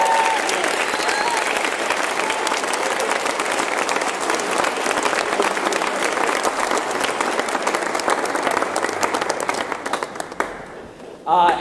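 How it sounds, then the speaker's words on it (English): Loud, dense applause from a concert crowd at a gospel choir performance, many hands clapping continuously and close, with faint crowd voices mixed in before it thins out near the end. "So let's clap it up for that"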